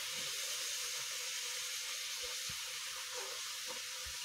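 A puffed bhatura, a fried wheat-dough bread, sizzles in hot oil as it is turned over, giving a steady, loud broadband hiss with a few soft thuds and no voices.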